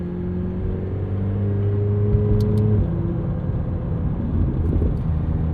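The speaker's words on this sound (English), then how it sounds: "The exhaust reverberates through the entire cabin." Twin-turbo V8 exhaust of a 2025 McLaren 750S heard from inside the cabin on a morning drive, a deep steady droning hum with low tonal engine notes that shift slightly, continuous and fairly loud with no talking.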